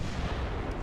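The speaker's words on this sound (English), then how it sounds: "Battleship gun, main guns fire at that, secondaries can fire at that." Battleship main guns fire in a naval combat video game, Italy against Austria-Hungary, as one loud, sustained, booming blast with a deep rumbling low end that fills the whole short moment.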